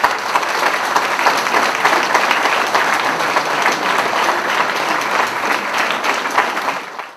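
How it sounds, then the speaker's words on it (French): A village audience at a New Year's greetings ceremony applauds steadily, dense clapping sustained at even loudness throughout before tapering off at the very end. "mérite que nous l'applaudissions et que donc vous l'applaudissiez pour"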